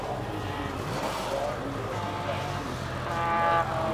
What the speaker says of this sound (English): BMW taking some very smooth lines through the sweeping bends.